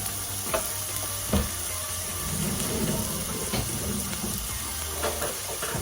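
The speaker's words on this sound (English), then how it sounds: "Now we're going to drop our onions in there. There we go. I'm gonna let those saute." Chopped onions sizzle in a preheated skillet, a constant frying hiss broken by occasional utensil clinks and scrapes, close and fairly quiet.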